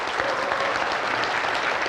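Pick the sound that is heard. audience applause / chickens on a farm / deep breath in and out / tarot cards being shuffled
audience applause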